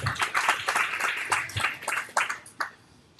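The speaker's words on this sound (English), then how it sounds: "So let's give him a round of applause, Mr. Lei Cheng." A panel audience at a real estate producers event on new construction gives a panelist a round of applause: a few seconds of loose, uneven clapping that starts strong and thins into scattered claps near the end.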